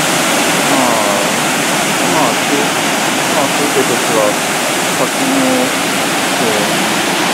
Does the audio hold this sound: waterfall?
yes